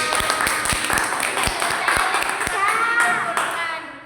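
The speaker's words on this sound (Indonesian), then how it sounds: "Oke, tepuk tangan." A classroom of students claps hands together in a burst of rapid, overlapping claps lasting several seconds, close and loud, with voices talking over it.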